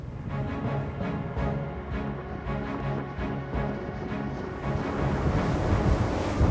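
Loud, steady engine drone with rushing water and wind as a Scout Boats 380 LXF speedboat speeds over waves, the roar swelling louder toward the end.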